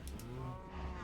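A Minecraft cow gives a low, drawn-out moo, soft and steady over a quiet game background.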